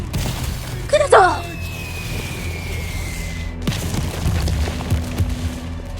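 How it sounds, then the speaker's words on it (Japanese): Artillery shelling near a field hospital in the war game War Hospital, with German howitzer rounds landing close: a heavy thump and crash early, then a whistling descent and a second impact, with rumbling aftermath. "病院のすぐそばへ砲撃とは、連中はジュネーブ条約に違反している"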